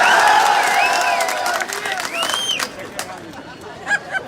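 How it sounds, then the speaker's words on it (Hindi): Rally crowd at a live political speech cheering and clapping on cue, a dense, loud wash of applause and shouting voices filling the whole stretch, with whistles and chatter mixed in. "ठोको ताली"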